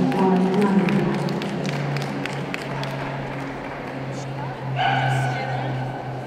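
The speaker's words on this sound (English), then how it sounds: "This is the Pyrenean Mountain Dog" Dogs at a Scottish Kennel Club 2016 pastoral group show, with barks and yips rising from a busy ring over steady crowd murmur, a commentator speaking throughout.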